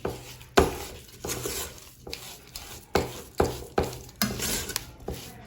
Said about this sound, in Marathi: तसेच आपण याच्यामध्ये वरून एक चमचा तूप घालून घेऊयात पुन्हा एकदा हे मिक्स करून घेऊयात